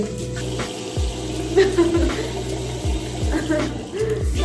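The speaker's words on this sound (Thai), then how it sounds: "เดี๋ยวเราล้างกันเลย" Running water from a tap while a face is rinsed, with close splashing and irregular gurgling bursts over a steady flow.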